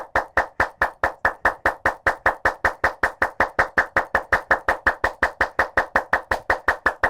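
A group claps hands together in unison during a yoga session, a steady fast rhythm of sharp, evenly spaced claps, about four or five per second, loud and close with no talking.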